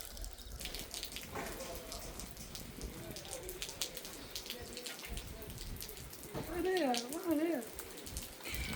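Rain falls at the Monastery in Petra, Jordan, a constant soft patter and splashing of drops close by, with people talking over it.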